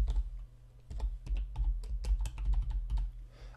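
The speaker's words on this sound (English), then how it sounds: "So for me, I'm going to type my IP address in here." Quick typing of an IP address on a computer keyboard, a close run of crisp clicking keystrokes in uneven bursts over a few seconds, with no voices.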